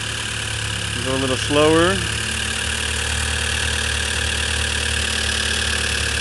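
Honda Prelude engine with a brand new radiator and timing set at 15 degrees idling steadily, a constant mid-pitched hum throughout while a person speaks briefly over it.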